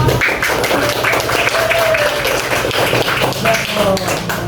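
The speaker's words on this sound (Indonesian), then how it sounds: "kita berikan tepuk tangan untuk" Classroom applause during a group presentation lesson, steady dense clapping from students throughout, loud and close, with voices mixed in.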